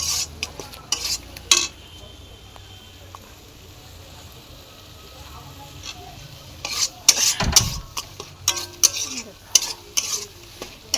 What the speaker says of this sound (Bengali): একদম মশলাটা সুন্দর করে ভেজে নিয়েছি